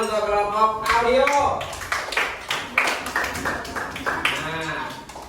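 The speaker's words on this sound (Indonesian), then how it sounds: "tepuk tangan untuk kelompok audio." Classroom students clap for a presenting group, a burst of crisp uneven hand claps that follows a teacher's speech and then trails off, with voices over part of it.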